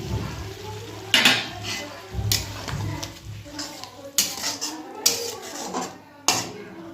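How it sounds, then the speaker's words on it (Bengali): Dishes and pans clatter in a home kitchen while a Bengali curry cooks, with a plate rinsed and a splash of water added to the frying pan: several sharp clinks and scrapes over a soft background hiss. "থালাটা ধুয়ে অল্প করে একটু জল দেব"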